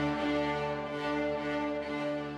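Refugee children in a Buffalo string program play string instruments together, a sustained, steady bowed chord that holds evenly at a moderate, somewhat distant level.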